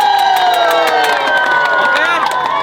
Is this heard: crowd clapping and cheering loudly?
yes